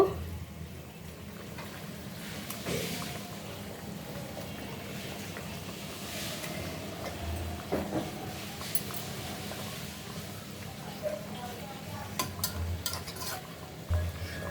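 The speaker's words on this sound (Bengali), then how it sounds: "দেখো ঝোলটা সুন্দর ফুটে উঠছে আমি এখন ভাজা মাছগুলো দিয়ে দিব" Fish curry simmers quietly in a pan, giving a faint, steady bubbling hiss with a few soft clicks and occasional stirring sounds, and no talking.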